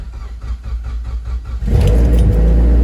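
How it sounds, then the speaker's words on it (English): A car engine turns over and catches partway through, settling into a loud, steady low rumble up close after a quieter stretch of rhythmic cranking. "Car is on."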